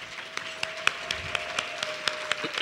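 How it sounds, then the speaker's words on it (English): Sparse, fairly even clapping from a small conference audience at a children's summit, honoring a staff member. The claps are moderately close and run steadily over a faint constant hum. "Clarissa, come out here so we can clap for you again."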